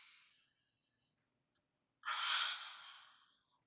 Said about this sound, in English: So everyone take one big deep breath like this.